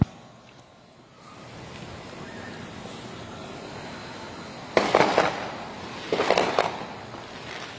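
Fourth of July fireworks go off outdoors: two distinct bursts of crackling, popping explosions a second or so apart, rising over a steady hiss of wind or distant ambient noise.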